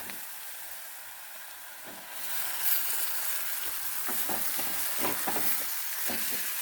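Boiled tripe (potti), cooked with turmeric, salt, ginger, green chili and vinegar, goes into a hot pan for a Kerala-style fry. A quiet hiss jumps to a loud, steady sizzle as it lands, with stirring scrapes and knocks.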